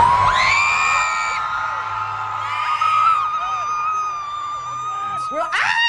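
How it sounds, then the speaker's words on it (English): Concert crowd screaming in anticipation inside a New York City venue before a show, a loud sustained chorus of high-pitched shrieks and whoops that swells, dips and surges again near the end. "anytime anything happens, like if lights dim a little bit, screams."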